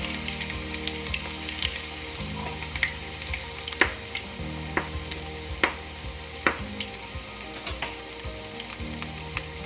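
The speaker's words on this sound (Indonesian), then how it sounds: "yang saya goreng pertama ternyata bukan ayam sama ikan, tapi kentang" Potato pieces fry in hot oil in a pan, a loud, continuous sizzle with scattered crackles and pops throughout.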